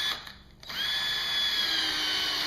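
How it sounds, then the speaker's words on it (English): A power drill whirs up after a brief pause and runs steadily at a high pitch, loud and close, as it drives in a screw. "So I'm just going to drill this, screw this in."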